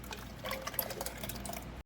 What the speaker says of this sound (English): Pour it into a 2-quart ice cream freezer